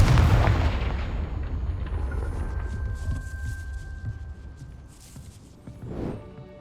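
A Confringo fire-blast spell in the Hogwarts Legacy video game erupts with a heavy, booming explosion up front, followed by a rumbling decay and scattered crackling debris as the blast fades.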